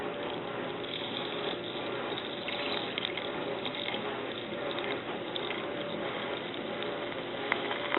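Rough grit is poured into a rock tumbler barrel, giving a continuous gritty rattling and trickling that stays steady and close for the whole stretch, with no talking.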